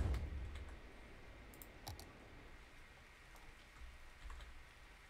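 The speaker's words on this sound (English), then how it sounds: "Rain is annoying as hell in this game." Rain falling in the city-building game Cities: Skylines, a soft, steady patter with scattered droplet clicks, fairly quiet and continuous with no talking.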